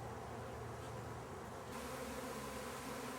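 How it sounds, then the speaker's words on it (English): Bees buzz steadily around their hives in a dense, continuous drone close by, with no voices. "you can see the bees moving around, and then they'll congregate back in front of the hives"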